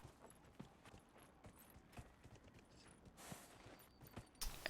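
Horse hooves clip-clop in a steady walking rhythm in the Dragon Age Inquisition video game, a close, fairly quiet patter of repeated hoof strikes with a brief louder burst near the end.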